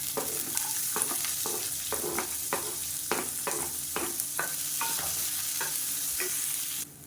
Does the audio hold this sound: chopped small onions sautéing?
yes